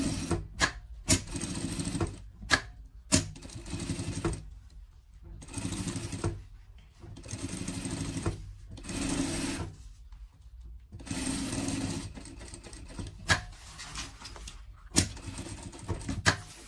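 A sewing machine stitches a seam on a fabric pet carrier bag, running in several bursts of rapid mechanical whirring with short pauses and a few clicks between runs.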